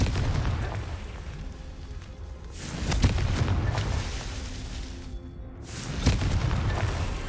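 Confringo fire spell explosions in Hogwarts Legacy, two loud booming blasts a few seconds apart over a steady rumbling game soundscape.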